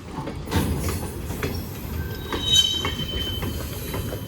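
A Norfolk Southern freight train, locomotive 4664, rolls past eastbound close by, producing a continuous rumble of wagons with wheel squeal and rhythmic clatter over the rails, with no voices.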